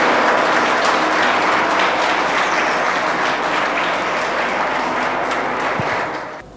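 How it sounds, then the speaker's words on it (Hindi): Loud, sustained applause from a seminar audience gathered for a talk on IAS exam preparation, dense clapping filling the whole stretch without break before tapering off at the very end. "प्लीज़ जोरदार तालियाँ"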